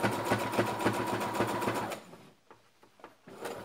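A domestic sewing machine runs a zig-zag stitch on frock fabric in a fast, steady mechanical chatter for about two seconds, then stops, leaving a few soft clicks and handling taps.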